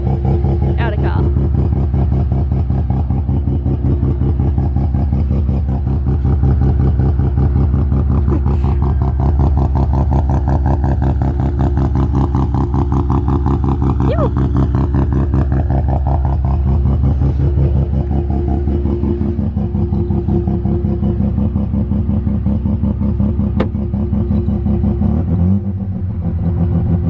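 A Mazda RX-7 rotary engine runs at a high, steady idle near 2200 rpm, loud and close, a continuous lumpy drone that stays even throughout before dipping briefly near the end.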